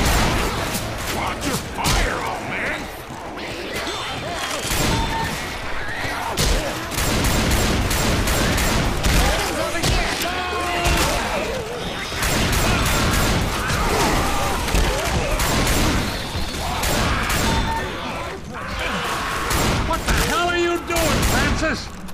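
Dense, continuous gunfire from Left 4 Dead 2 fills a chaotic co-op zombie fight, loud bursts layered with booms and crashes, and players' voices call out over the shooting.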